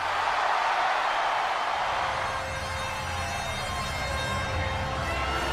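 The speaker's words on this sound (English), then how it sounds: "Listen to the crowd," A huge stadium crowd at WrestleMania in Hollywood roars in a steady, dense wash of cheering, with tonal sounds rising through the middle and no clear speech over it.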